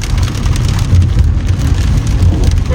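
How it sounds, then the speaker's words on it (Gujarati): Heavy rain pours down during a car road trip on a December route toward Shimla and Manali, a loud, dense, unbroken hiss of drops drumming on the car with a low road rumble beneath. "તમે વરસાદ જુઓ"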